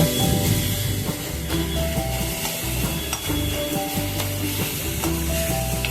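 Cabbage fries with turmeric in a pan, giving a steady close sizzle broken by scraping stir strokes as the leaves are loosened, with a faint tonal hum underneath.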